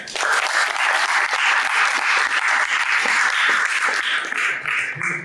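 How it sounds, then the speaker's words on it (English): A debate audience breaks into loud, sustained applause for a speaker, with dense clapping that holds steady for several seconds and then thins out near the end. "Ladies and gentlemen, round of applause for Marc."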